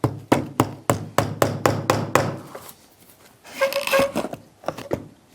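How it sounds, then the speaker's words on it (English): A medium hammer drives a nail with about nine sharp, evenly spaced blows, close and loud. A scraping, rattling sound follows, then a few lighter taps. "We'll try again with the medium hammer."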